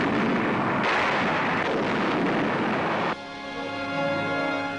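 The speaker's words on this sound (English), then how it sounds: "American artillery answers back." American artillery fires in archival wartime footage, producing a dense, roaring barrage of booms and rumbling blasts, followed by a lower, steadier droning tail.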